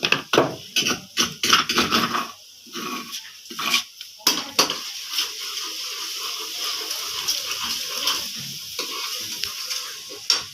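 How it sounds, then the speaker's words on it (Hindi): Garlic sizzles in a hot pan of browned food, with sharp scraping stirs and metal clinks early, then a softer steady frying hiss, close by. "उंगली से लहसुन डाल देंगे इसके अंदर ताकि ये भी अच्छे तरीके से भुन जाए इसके अंदर"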